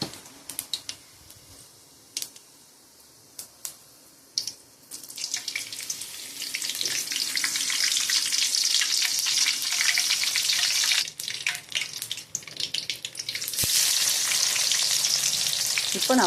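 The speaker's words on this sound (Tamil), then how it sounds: "அதிலே கருவேப்பிலை போட்டுக்கிறேன்." Curry leaves drop into hot sesame oil with fennel seeds: a few scattered clicks, then a loud, dense burst of sizzling that crackles on steadily nearby, with no voices.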